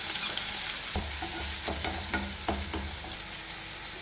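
Onion sizzles in hot oil in a pan, a steady dense hiss with soft scraping and stirring knocks throughout, close and fairly loud, no talking.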